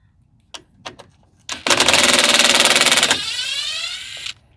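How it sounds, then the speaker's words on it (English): A power tool loosening 10 mm bolts on a 2020 Ford F150, heard as a few sharp clicks followed by a loud, close rattling burst of about a second and a half, then a lower whir winding down. "we're going to have to be unloosening all these 10 millimeter bolts here"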